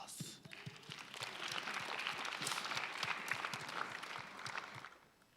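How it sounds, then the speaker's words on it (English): Audience applause at a web developer conference lightning talk session, a dense wash of many hands clapping that swells quickly, holds steady for several seconds, then fades out at the end. "Applause."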